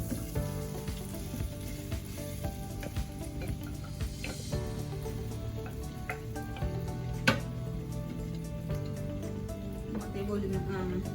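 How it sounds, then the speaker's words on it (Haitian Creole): Onions sizzle and fry in a pot on a home stove as Haitian Creole cooking gets underway, a steady crackling hiss running throughout with a voice talking over it. "kene mwen pral vide zizye nan chodyem"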